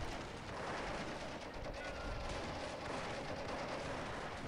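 Machine gun fire in the Company of Heroes strategy game: a dense, continuous battlefield rattle of rapid shots with artillery-like rumble, loud and sustained throughout.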